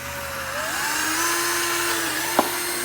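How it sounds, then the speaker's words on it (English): A high-pitched power drill whirs steadily, its pitch shifting slightly as it bites into the metal of a Nissan 350Z fender while fitting a wide-body kit, ending with a short sharp knock. "You getting tired of drilling fenders yet?"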